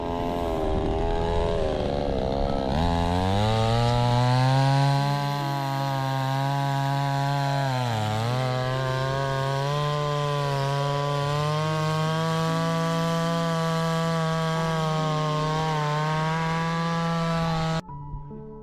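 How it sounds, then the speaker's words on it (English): A chainsaw cuts into the trunk of a dead apple tree with a loud, sustained motor whine. Its pitch dips and recovers as the blade bites into the wood, and it stops abruptly near the end. "You see how to cut, slice, slash, and not cram a saw into the trunk at once."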